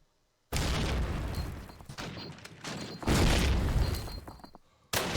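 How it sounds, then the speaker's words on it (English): Grenade blasts in a Call of Duty United Offensive match, two loud bursts of explosive noise starting abruptly after silence, each decaying into rumbling debris, with a third sharp blast at the very end. "Plenty of nades going out."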